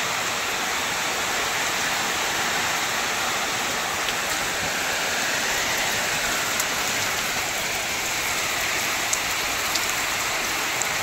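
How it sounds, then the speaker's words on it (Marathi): Heavy rain pours down steadily in a dense, even hiss, loud and unbroken, with no one speaking over it. "किती पाऊस चालू झालेला आहे बघा."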